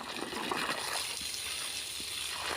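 A steady trickle of water running in a garden for a cat to drink, a continuous soft flowing and splashing texture heard close with no clear voice over it.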